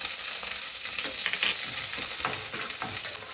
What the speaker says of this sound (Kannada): ಕಡಿಮೆ ಉರಿನಲ್ಲಿ ಸ್ವಲ್ಪ ಫ್ರೈ ಮಾಡ್ಕೊಳ್ಳೋಣ